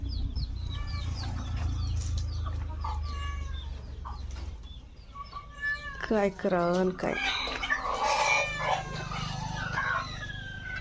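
Backyard chickens cluck while a rooster crows loudly nearby, mixed with a cat-like meowing call, and someone talks over the birds throughout.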